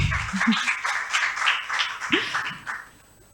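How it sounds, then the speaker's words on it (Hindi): Audience clapping at a valedictory function, brief bursts of applause mixed with voices and a few low vocal sounds, fairly close, tapering off toward the end. "सो उनके लिए एक इससे भी ज़ोरदार ताली"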